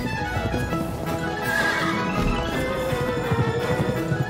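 A horse in the video game Pumpkin Jack neighs loudly while its hooves clip-clop at a gallop, set against a dense, continuous wash of game sound.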